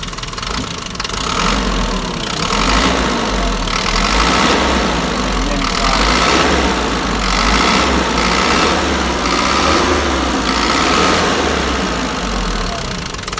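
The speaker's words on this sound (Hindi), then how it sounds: "ये इंजन स्टार्ट हो गया है।" A Toyota Coaster with a 4500cc diesel engine idles steadily just after starting, a loud, close, continuous rumble with a faint knocking pulse throughout.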